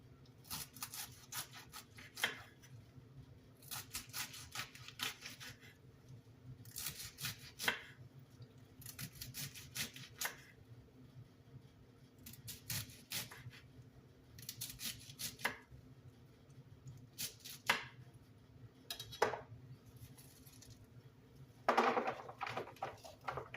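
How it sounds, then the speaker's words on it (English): A knife slices through a head of cabbage for homemade sauerkraut, in repeated bursts of close, crisp cutting strokes separated by short pauses, with no talk. "Now I'm just going to cut the cabbage, and you can make your cabbage as fine or as thick as you want."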